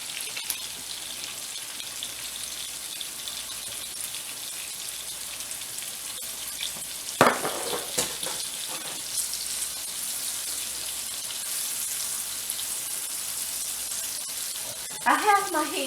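Yellow summer squash sautéing in a pan, giving a steady soft sizzle with a few crackling bursts as the pieces are stirred, and a voice talks faintly at times.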